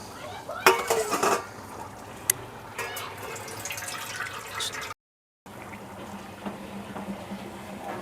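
Spiced water, rinsed from the spice vessels, poured into a cooking pot of prawn pulao, with a few sharp metallic clanks early on, then a soft running trickle and splash, close by.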